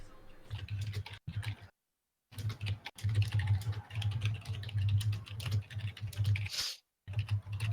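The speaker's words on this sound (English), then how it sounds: "I'm tired of typing" Fingers tap rapidly on a computer keyboard in close, busy bursts of clicking, broken by a couple of brief silent pauses.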